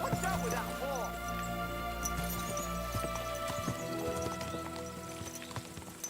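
Horse hooves clip-clopping in a video game, a steady run of close hoofbeats under a continuous music and ambience bed, with a brief whinny-like cry near the start.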